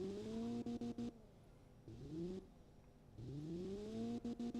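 A stock car engine in the Automation video game revs repeatedly, rising and falling in tone, with a stuttering limiter-like bounce at the top. It is moderately loud and heard alone.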